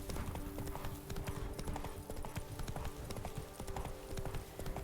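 Horse hooves clip-clop in a steady trotting rhythm in The Witcher 3: Blood and Wine, a quiet continuous patter of hoofbeats with no talking over it.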